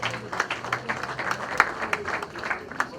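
A small audience at an African writers' day celebration applauds with scattered, distinct claps at a moderate level, the individual hand strikes clearly separated rather than merging into a roar.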